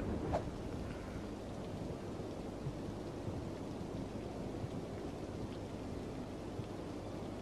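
A lightning storm in Cities: Skylines (Mass Transit, PS4 edition) gives a steady wash of rain-like noise and low rolling thunder rumble, with one slightly sharper crack near the start and no talking.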